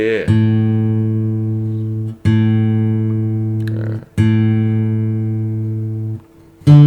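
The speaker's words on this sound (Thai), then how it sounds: "สายที่4นะครับเป็นเสียง D" The open D fourth string of a guitar is plucked and left ringing, then struck again twice more in a steady, even rhythm, each ring slowly fading before the next.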